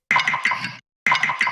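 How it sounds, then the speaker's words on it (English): The raw artifact sample from the Memento pack sounds twice: a bright, shimmering metallic burst with rapid flickering pulses, each lasting under a second and separated by a short silence. "this is the original sound from the artifact"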